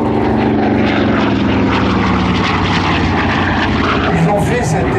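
Propeller airplane flying at the Melun Villaroche airshow, a loud, steady droning engine roar that continues throughout while someone talks over it.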